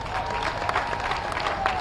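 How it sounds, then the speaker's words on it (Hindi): An audience at a large Hindi public gathering applauding, a moderately faint, steady patter of many hands clapping with a few sharper claps, crowd murmur and a sustained tone beneath. "आपकी तालियों में शोर कम था"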